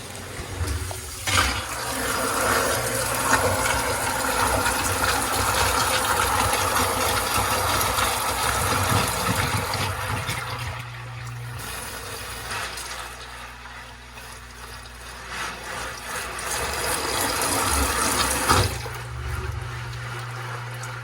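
A Zoeller 212 sewage ejector pump in a basement runs non-stop with a faulty float switch, making a loud continuous motor hum and rushing, gurgling water, its vibration rattling the discharge pipe, with no talking.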